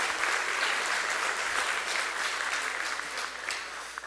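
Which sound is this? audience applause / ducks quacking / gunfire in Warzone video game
audience applause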